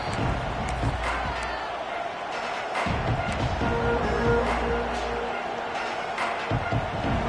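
A stadium crowd at a football game keeps up a broad, steady roar with swelling bursts of cheering, while a commentator's voice talks over the noise.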